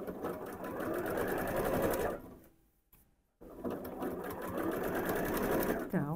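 A sewing machine stitching fabric for a Christmas tree panel, running in a fast, even mechanical chatter with a brief stop partway through, while someone talks over it.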